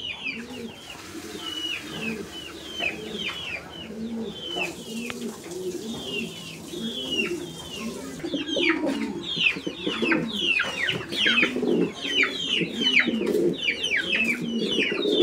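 Many pigeons at a pigeon sale coo continuously in overlapping, throaty rolls, close and busy, with some chicken-like clucking mixed in and growing louder toward the end.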